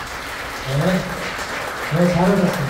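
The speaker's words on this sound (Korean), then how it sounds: "한번 자리에서 일어나 주시면 박수로 우리 격려하도록 하겠습니다" A church congregation at an Easter Sunday service in Gurgaon stands and applauds to welcome visitors, a steady wash of clapping running beneath someone speaking over it.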